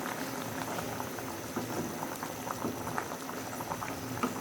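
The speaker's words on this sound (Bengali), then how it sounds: "মাছের ঝোল দেওয়ার পরে এই তো মাছটা এবার ফুটতেছে" Fish curry with a soft sea fish bubbling in a pot, a steady, dense simmer of close bubbling and popping that runs the whole time with no voices.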